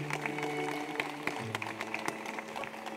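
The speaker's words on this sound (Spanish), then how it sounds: "Dale un fuerte aplauso a Cristo" A wedding congregation in Guayaquil applauds during the ceremony with a fairly faint, steady clatter of clapping, while a sustained musical tone and some indistinct voices carry underneath.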